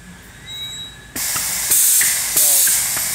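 A pneumatic screw feed automation mechanism switches on with a sudden loud burst of air hiss, followed by repeated sharp pneumatic puffs and clicks as the slide shuttles back and forth.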